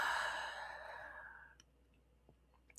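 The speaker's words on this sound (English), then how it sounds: "and breathing out." A long, deep exhale during a guided breathing meditation, a soft airy rush that fades over about a second and a half, followed by near silence with a faint click at the end.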